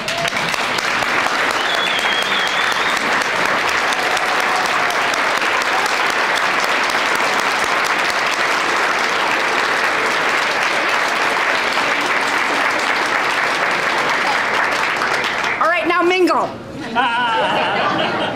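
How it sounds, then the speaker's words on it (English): An audience at the 2010 St. Paul Neighborhood Honor Roll event claps in a long, steady, loud round of applause with some chatter and laughter, ending with the clapping dying down and voices speaking near the close. "give ourselves a big round of applause"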